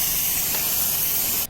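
A spray can lays a coating onto a beer bottle in one steady, close, loud hiss that runs almost the whole time, then stops abruptly at the end.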